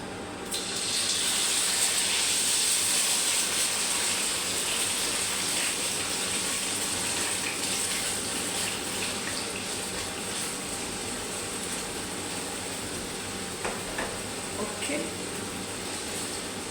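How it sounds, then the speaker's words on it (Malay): Chicken that has been marinated for twenty minutes fries in a pan for nasi goreng, giving a loud, steady sizzle that hisses throughout, with a voice talking over it. "Sekarang kita nak gorengkan kita punya Ayam kita telah diperapkan selama 20 minit"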